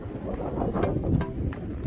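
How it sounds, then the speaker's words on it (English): Strong storm wind buffeting the microphone in a continuous low roar while fishing outdoors, with faint gusty rustles and no voices. "It's really windy."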